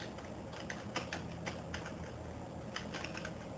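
Quiet, irregular clicks of a computer keyboard as text is typed on a Windows PC, coming in short bursts with small pauses.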